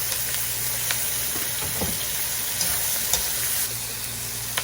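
Tomatoes sauté in a pan of fried pork for Filipino kinamatisang baboy, a steady close sizzle with faint stirring scrapes and a few soft clinks, no talking.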